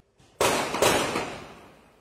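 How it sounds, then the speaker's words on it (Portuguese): Two sharp, loud cracks in quick succession, each leaving a long fading echo, like gunshots fired outdoors. "dá para ouvir o momento em que os criminosos atiram para o alto."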